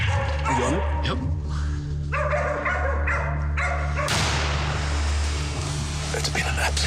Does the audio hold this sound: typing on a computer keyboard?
no